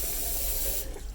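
Tap water runs in a steady hissing stream into an old plastic peanut butter container, then splashes and gurgles briefly as the flow changes near the end.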